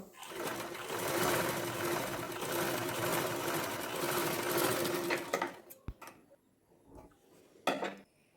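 A sewing machine hums through a long continuous run of stitching along a neckline, close and steady, then stops and leaves a few clicks and handling knocks.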